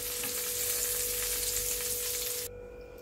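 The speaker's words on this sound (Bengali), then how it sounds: "পটলটা আমি উল্টে পাল্টে হালকা করে ভেজে নিলাম" Pointed gourd (potol) pieces frying lightly in oil hiss in a loud, close, continuous sizzle that drops abruptly quieter near the end, with no talking.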